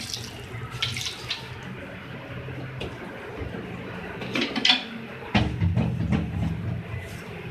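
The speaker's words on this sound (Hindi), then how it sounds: "पानी इसमें मैं ऐड कर रही हूँ 2 गिलास पानी ऐड करी" Water poured from glasses into a cooking pot holding oil for a beef Eid dish: a steady splashing pour runs throughout, growing louder and heavier toward the end, with no voices.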